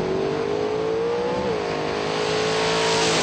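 Drag racing cars, a Mopar and a 1997 Ford Mustang, roaring down the strip at a race meet, a loud sustained engine howl that climbs in pitch, dips briefly at a gear change, and keeps building.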